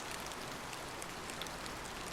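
Steady rain falls in an even, continuous hiss with soft patter throughout, moderately quiet and unbroken, with no voice over it.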